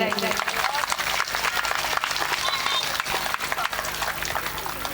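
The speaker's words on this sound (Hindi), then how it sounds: "पहले सभी हमारी मैया के लिए जोर से ताली बजाएंगे।" A crowd at a Hindu devotional Ram Katha event clapping steadily and enthusiastically, a dense wash of hand claps that carries on throughout.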